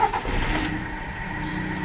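A VW Golf Mk6 1.4 engine starts up after a no-start fault, a steady mid-pitched engine rumble settling in close by; no speech.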